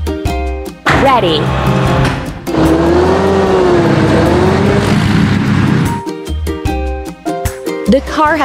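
A cartoon car drives in a kids' construction video game, its engine whining and rising in pitch for a few seconds, loud and close, between bursts of upbeat game music.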